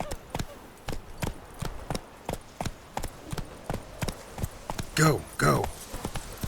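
Galloping hoofbeats of a horse in The Witcher 3 video game, a steady fast rhythm of close, evenly spaced clops running throughout, with someone speaking briefly over them.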